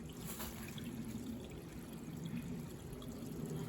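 Spring water trickles straight out of the ground beside a hiking trail on the Pinhoti, a faint, steady, continuous flow with no voices.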